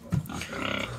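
Farm pigs grunt and squeal close by in a pen, one short sharp squeal followed by rough, overlapping grunting over a few moments.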